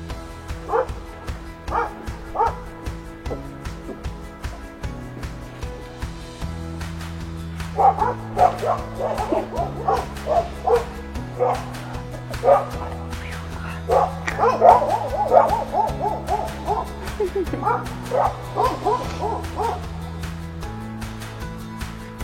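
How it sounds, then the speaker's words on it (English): A dog in a backyard pen at a house yaps and barks repeatedly, with some whimpering yips, the bursts coming in irregular clusters at moderate distance over a low steady background hum. "You're hearing the owner's dog."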